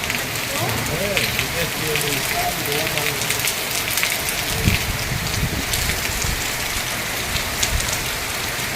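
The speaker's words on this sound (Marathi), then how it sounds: "हवा पण सुटलेली आहे आणि पाऊस पण जोरात चालू झाला आहे आता" Hard, wind-driven rain lashes down on rooftop slabs with a loud, continuous roar and scattered sharper splashes, while a person talks through the noise.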